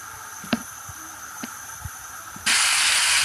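A tomato, red chili and salt masala for beef paye hisses in a pan, with faint clicks at first before a sudden loud burst of sizzling steam near the end as dried coriander and green chilies are added.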